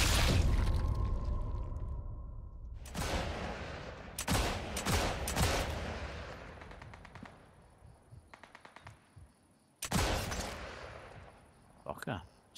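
Machine gun fire in a World War II-style shooter game, loud bursts of rapid shots repeating across the clip with echoing tails, mixed with other distant gunfire and impacts, while voices talk over it.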